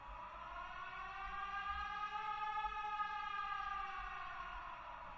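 A reversed sample treated with reverb and EQ that trims lows and highs swells slowly as a smooth, sustained harmonic tone, steady and moderately quiet with a soft fade, in a remake of Joey Bada$$'s "The Light" instrumental.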